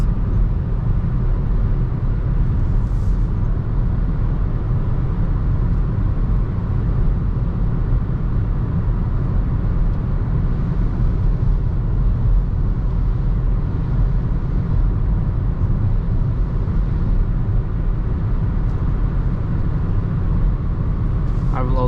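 Steady, loud road and engine drone inside a 2021 Hyundai Tucson with 180 HP 4WD cruising at 130 km/h under 2,500 RPM, a constant low rumble with wind hiss and no letup.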